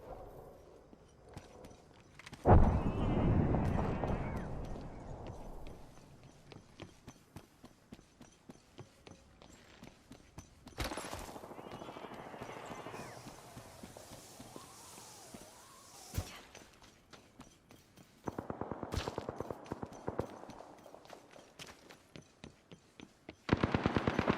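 Gunfire in the Apex Legends shooter comes in loud automatic bursts separated by quieter stretches of footsteps and movement, close and sharp with rapid repeated shots.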